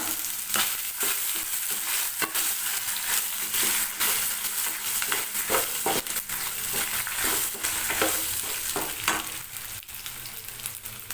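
Tamarind and coconut slices sauté in oil for a radish chutney, a constant crackling sizzle mixed with repeated scrapes and clatters of a spatula stirring in the pan throughout.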